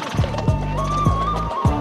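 Racehorses at the final race meet of the Dubai season give heavy, regular hoof thuds about every half second, close and loud, over a steady tonal drone.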